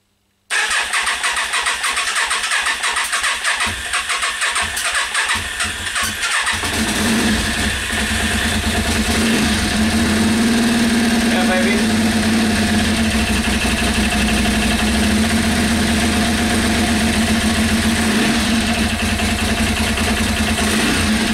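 A Yamaha Virago XV500 cafe racer motorcycle engine cranks with the starter for several seconds, then catches and settles into a loud, steady, close idle that runs to the end.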